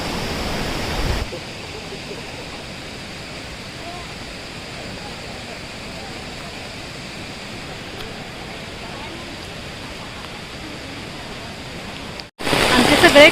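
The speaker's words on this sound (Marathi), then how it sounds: "धबधबे बघत बघत फक्त आलोय" A waterfall at Kadgaon near Gargoti in Kolhapur roars as a steady, broad rushing wash of falling water, loud and continuous, with a brief louder burst at the start and end.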